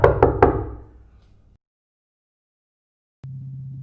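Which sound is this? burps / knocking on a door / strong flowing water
knocking on a door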